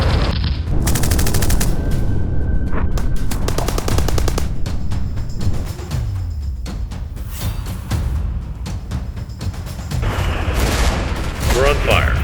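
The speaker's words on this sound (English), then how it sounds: "A shell explodes near the cockpit, and shrapnel riddles Norman Jackson's legs" Rapid bursts of heavy gunfire rattle close and loud, broken by booming shell explosions, a continuous chaotic barrage of aerial combat noise from an air battle at 18,000 feet.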